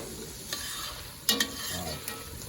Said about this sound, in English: those are sweating down pretty good. Onions are starting to get translucent.